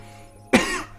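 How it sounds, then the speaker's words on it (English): A single sharp, close cough from a man who has been sick, standing alone against a faint steady background hum. "Excuse my coughing, I'm still coughing for whatever reason."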